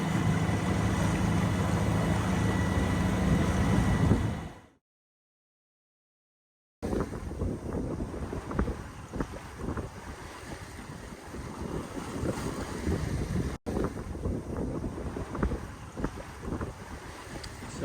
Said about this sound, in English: So sails are up, and we're doing 6 knots on a broad reach